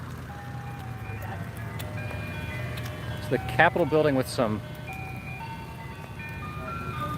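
Ice cream truck jingles from two trucks playing side by side in a Washington DC street, the tinny melodies clashing for a few seconds mid-clip over steady traffic hum while a person talks nearby.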